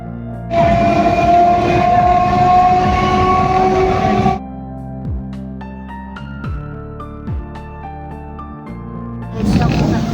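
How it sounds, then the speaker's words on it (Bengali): A local train departs from Sealdah toward Canning, roaring loudly for about four seconds before dropping to a quieter rumble with voices talking, then surging again at the end. "চলো ট্রেনে উঠে পড়ি"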